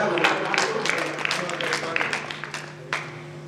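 An audience at a Hindi comic poetry gathering claps steadily through the whole stretch, a dense patter of many hands that slowly thins out, heard alone at moderate loudness.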